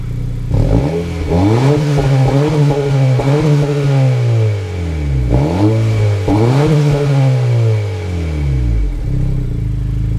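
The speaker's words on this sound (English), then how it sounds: "I'm going to let you guys hear what that sounds like very quickly." A 2022 Honda Civic Si with a dual tip exhaust, revved while parked, giving several rising and falling engine pulls that sound loud and close, with a short blip between longer revs.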